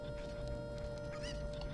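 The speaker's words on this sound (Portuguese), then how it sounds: "A galinha." A chicken in Zelda: Ocarina of Time clucks faintly over steady game background music, a short burst of clucking near the end of a brief stretch.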